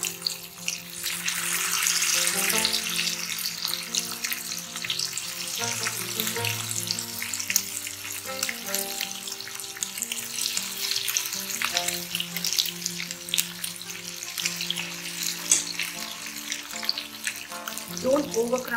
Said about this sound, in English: The oil is heated up. I put it on medium heat. I'm going to use a spoon to put in the batter.